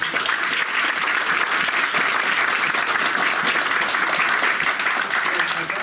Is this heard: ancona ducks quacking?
no